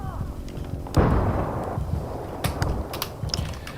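A grenade goes off in Battlefield 3 online multiplayer: a sudden loud blast at about one second, then a long rumbling roar with scattered gunfire and battle noise.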